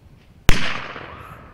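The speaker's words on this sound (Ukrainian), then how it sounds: "Розпочали з кращої козацької традиції – вистрілу гармати." A single sharp, loud cannon blast rings out at close range to open a Ukrainian military-patriotic youth game, followed by a rolling echo that slowly fades away.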